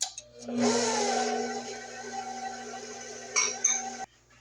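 An electric mixer whirs steadily through pound cake batter as flour is combined, a continuous motorized hum with clinks of the beaters against the bowl near the end before it cuts off.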